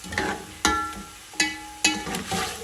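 Chicken pulao ingredients cooking in a pan over medium heat, a few distinct stirring scrapes against the pan over a light sizzle, close and fairly loud, no voices.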